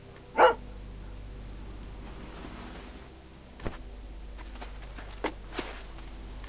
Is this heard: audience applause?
no